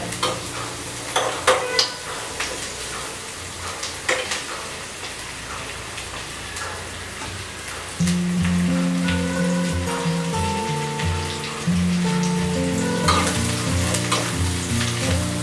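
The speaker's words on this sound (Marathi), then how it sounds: "किमान 3 मिनिट तरी कांदा असा फुल स्पीडमध्ये फ्राय करून घ्या." Chopped onion fries at full heat in a pan for a home-cooked besan pithla, a steady loud sizzle with crackling bursts and occasional stirring scrapes, running without pause throughout.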